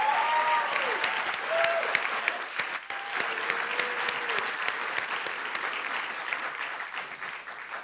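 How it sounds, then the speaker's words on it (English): Sustained, dense applause from a large audience at the Hult Prize 2024 Global Finals stage event in London, steady and full throughout, with a few voices calling out through it. "So a huge round of applause to our experts in residence."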